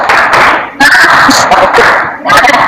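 A classroom group performs a rhythmic 'tepuk semangat' clapping ice-breaker during an Islamic jurisprudence lesson, with bursts of patterned claps mixed with chanting voices, loud and close.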